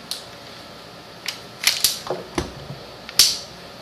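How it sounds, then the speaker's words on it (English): Clamp being fitted on a wooden glue-up for a shou sugi ban sign blank, a handful of sharp metallic clicks and ratcheting snaps, close and fairly loud, with a quiet background. "And then I come back with another clamp."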